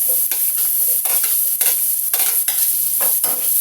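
Pork for sisig sizzles and fries in a pan while a utensil stirs it in regular scraping strokes, the hiss continuous and close with no talking.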